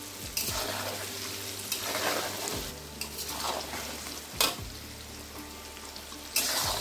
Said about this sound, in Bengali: রসুনটাকে 5 মিনিট একটু ভেজে নিলাম।